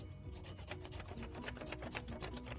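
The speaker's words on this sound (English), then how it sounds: "So I could take this and do a crayon rubbing with the side of my crayon" Side of a crayon rubbed over the textured bottom of a shoe on paper, a quick series of dry, scratchy back-and-forth strokes, close and soft.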